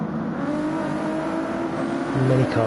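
A pack of GT1 race cars at Circuit Gilles Villeneuve in a racing game, engines droning together in a loud, sustained roar with overlapping tones, rising slightly near the end as they pass.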